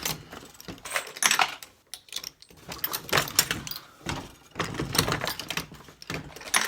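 A Dillon 550 four-station reloading press cycling pistol ammunition, giving repeated loud mechanical clacks and clunks in bursts of handle strokes with short pauses between, close and without talk.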